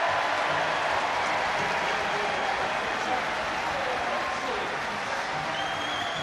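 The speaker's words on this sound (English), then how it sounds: "The crowd have absolutely loved that." Rugby crowd at an EPCR Challenge Cup match applauding a try, a dense, sustained roar of clapping and cheering that holds steady and loud throughout.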